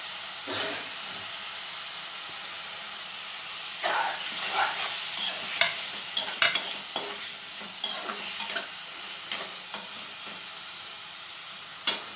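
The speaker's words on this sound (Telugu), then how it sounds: "సగం వేగిందండి ఉల్లిపాయ. టమోటా వేస్తున్నాను." Onion and tomato fry in a pan with a steady, close sizzle and hiss, broken by irregular scraping stirs and taps of a utensil, with no talking.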